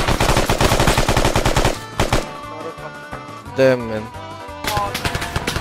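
Rapid automatic gunfire in the military shooter ArmA 3, loud and close, a dense burst at first followed by scattered heavier shots and another burst near the end, with someone speaking in between.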